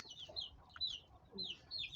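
Small hens wander close by outdoors in a village, giving soft, repeated clucks in short bursts, faint and fairly quiet against light background noise.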